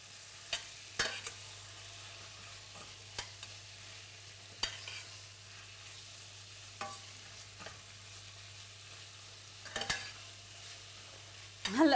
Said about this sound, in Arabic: بعدها بضيف رب البندورة. وبحركهم كلهم مع بعض.